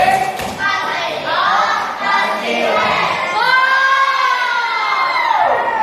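Group 1 gets cheering and shouting from a crowd of children in a classroom, a loud continuous wave of high excited voices with a thud near the start.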